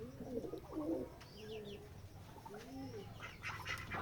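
Ducks being sold on a village farm in Betikhola, Keshabpur, Jashore, let out a few short, nasal quacks in separate bursts, moderately close and fairly quiet, with other birds faintly around.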